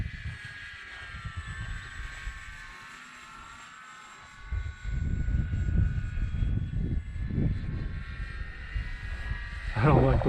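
An RC Hawker Hurricane warbird model on a 4S battery flying overhead, giving a faint, steady electric motor whine under someone talking, with wind noise swelling in the second half.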